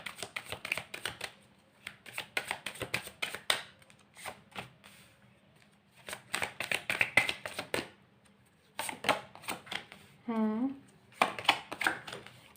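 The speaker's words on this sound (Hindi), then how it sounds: "और कार्ड्स देखते हैं, और कार्ड्स निकालते हैं।" Tarot cards being shuffled and drawn from a deck by hand, several quick riffling bursts of crisp papery flicks separated by short pauses, close and fairly soft, with a voice briefly heard near the end.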